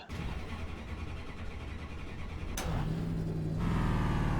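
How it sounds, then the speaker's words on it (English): Race car engine in iRacing's NASCAR Class B series at Bristol Motor Speedway firing up: a low rumble, then a sharp start around the midpoint settling into a loud, steady idle that grows stronger near the end. "Fire the car up."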